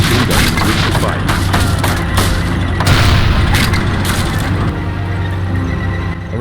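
A tank's machine gun fires in the World War II game Faces of War, a continuous loud barrage of booms and bursts mixed with heavy battle noise.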